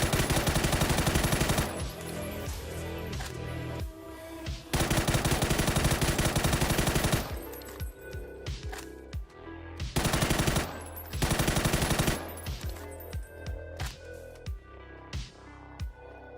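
Automatic bursts from an M4 rifle fitted with a muzzle brake in PUBG, long rapid sustained strings of shots alternating with shorter choppy bursts and scattered single cracks, loud and close, with no talking.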